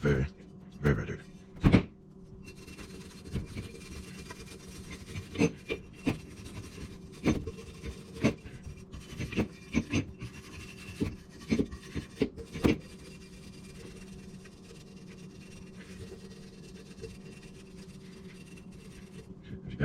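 A very dirty part from a Panzer Arms BP12 shotgun is scrubbed with a brush: a busy run of close, scratchy strokes and knocks that fades to quiet background after about thirteen seconds.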